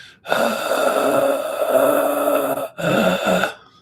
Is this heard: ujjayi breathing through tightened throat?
yes